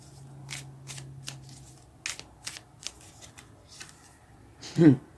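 Tarot cards are shuffled by hand in a series of soft, quick riffles and taps, ending in a louder burst near the end, with a low hum underneath.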